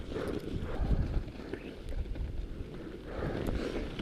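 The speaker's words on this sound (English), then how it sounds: "Back out into the wind." High wind buffets the microphone on a snowy winter mountain trail in the White Mountains, a steady roaring rush with gusts swelling and easing throughout.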